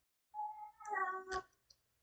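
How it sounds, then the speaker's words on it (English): A cat in heat gives a drawn-out, rising meow indoors, fairly quiet and alone, followed by a brief faint click. "Go meow in the basement where no one can hear you."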